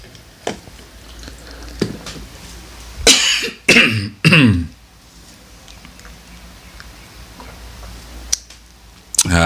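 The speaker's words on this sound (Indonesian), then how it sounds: "sedikit batuk ya" A man coughs a few times in quick succession, loud and close, breaking an otherwise quiet indoor stretch dotted with faint clicks and small handling sounds.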